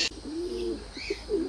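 Pigeons coo near a pigeon aviary in a garden, a soft low rolling call close by over a constant outdoor hiss with brief chirps.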